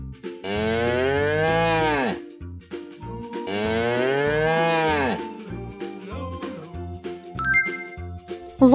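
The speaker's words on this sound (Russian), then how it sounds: "Корова." A cartoon cow moos twice, each a long, loud, drawn-out low call, over light children's music with a tinkling chime toward the end.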